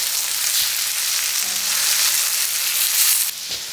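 Tofu sears in a hot pan for a vegan BBQ tofu dish, giving a steady, close sizzle and frying hiss that holds evenly throughout with only a slight dip near the end.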